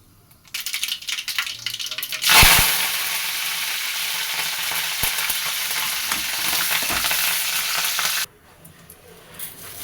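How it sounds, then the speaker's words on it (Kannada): A sharp burst of loud crackling as mustard seeds and curry leaves hit hot oil for a tempering, settling into a steady, close sizzle that stops abruptly near the end. "ಎಣ್ಣೆ ಬಿಸಿ ಆದಮೇಲೆ ಅದಕ್ಕೆ ಒಂದು ಸ್ವಲ್ಪ ಸಾಸಿವೆ ಮತ್ತು ಕರಿಬೇವು ಹಾಕ್ಕೊಂಡು ಒಗ್ಗರಣೆ ಮಾಡಿಕೊಂಡ್ರೆ"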